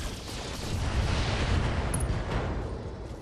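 Battlemech weapons fire in the turn-based mech combat game BattleTech as a steady, loud, rumbling barrage of blasts and explosions, dense and continuous, with no talking.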